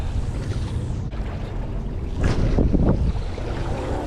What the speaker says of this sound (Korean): 날씨는 좋은데 바람 때문에 쉽지 않네